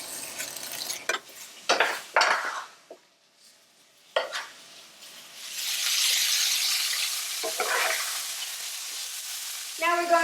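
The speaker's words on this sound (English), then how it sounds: "Now we're going to add in a teaspoon of oil, to add in the pork belly." Pork belly frying in a teaspoon of oil in a pan, loud crackling sizzle bursts with brief quiet gaps, then a steady hissing spit of fat, close and alone without talk.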